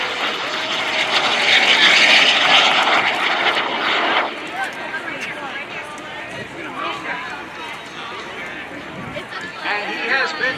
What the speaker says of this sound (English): the final photo pass of the Mini Jet